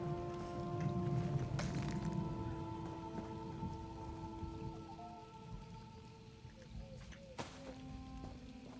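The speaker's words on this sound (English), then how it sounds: "Are we about to get rained on?" Light rain patters on surfaces in the Elder Scrolls Online game world, a soft steady hiss with scattered drops and faint game tones, under a quiet spoken voice.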